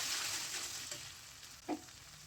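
Blended cabbage frying with garlic, onion and cumin, a soft continuous sizzle with one brief scrape near the end, close but fairly quiet, no talking.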